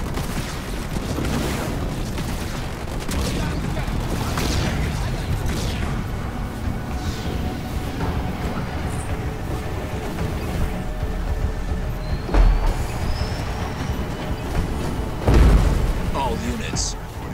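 Air units attacking in the real-time strategy game Halo Wars 2, with booming blasts and crashing explosions rolling over continuous battle noise and game voices, loudest in a few sharp hits near the end.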